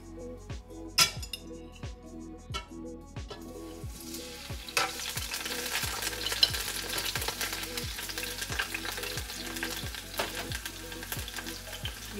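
Red peppers go into a preheated pan and fry with a bright crackling sizzle that builds and holds. Regular clinks and knocks, like utensils against dishes, repeat throughout, more clearly at the start.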